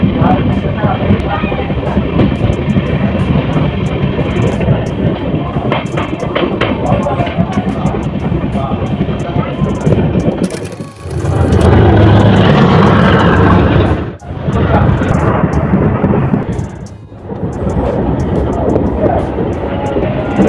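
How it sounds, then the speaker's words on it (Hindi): The Jogbani–Siliguri Intercity Express runs on steadily after leaving Salmari station, a loud continuous rumble of wheels and carriages heard from inside a general coach, with brief surges and dips as it passes along the line. "2 मिनट हॉल्ट के बाद हमारी ट्रेन सालमारी रेलवे स्टेशन से निकल चुकी है।"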